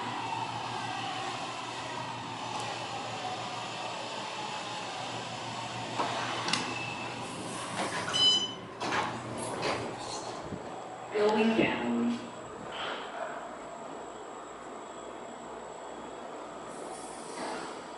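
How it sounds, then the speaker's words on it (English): An Otis Series 5 traction elevator in the South Tower of a Melbourne Beach oceanfront Hilton runs with a steady mechanical rumble and hum. Close, clunky door-closing thuds and brief squeals sound midway, and a person talks quietly over it. "Doors close kind of quickly."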